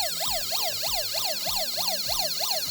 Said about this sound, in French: Alors ici, vous avez la sirène, je vais dire de base.